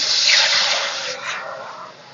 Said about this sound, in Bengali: কড়া গরম হয়ে গেছে, জল দিয়ে দেবো